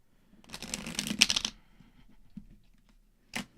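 A deck of cards is shuffled in a quick riffling burst lasting about a second, followed by soft handling clicks and one short final riffle, close and quiet.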